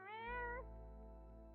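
A person imitates a cat with a single short, clear meow that slides down and fades, heard alone over a low steady hum.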